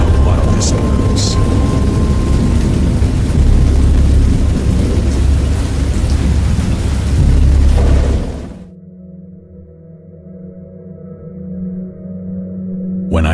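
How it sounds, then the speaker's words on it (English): A thunderstorm in the Lovecraft video game Dagon: a loud, continuous roar of heavy rain and rolling thunder that cuts off abruptly near the end, leaving a much quieter low hum. "I heard peals of thunder and other tones which nature utters in her wildest moods"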